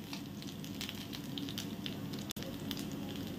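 Fish frying in hot oil in a home kitchen, a steady dense sizzle and crackle throughout with one brief sharp break near the middle.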